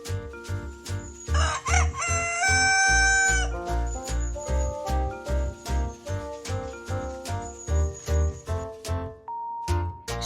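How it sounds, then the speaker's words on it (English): A rooster crows once, loud and close, over a bouncy rhythmic farm-themed tune with a steady beat; a few clucks sit among the music. "I see a rooster."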